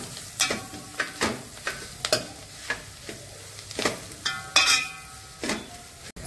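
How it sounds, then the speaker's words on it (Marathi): Masala and onion sautéed in a pan for prawn rice, a soft sizzle punctuated by repeated sharp scrapes and clinks of a spoon stirring against the pan at an irregular rhythm. "मसाला आणि कांदा परतून घेऊया"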